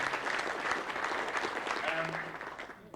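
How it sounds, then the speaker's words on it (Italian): Audience applause at a club's 25th anniversary gathering, a dense sustained burst of clapping from a room of people that gradually thins out toward the end. "Applause for all of those, please."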